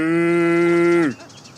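A person's voice imitates a cow, holding one long, steady, nasal moo for about a second before it drops off abruptly, loud and close.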